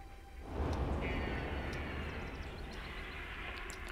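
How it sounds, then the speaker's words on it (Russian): A low, broad engine roar swells in and holds steady, like a distant airplane taking off, heard faintly over an otherwise quiet background. "Это самолет взлетает."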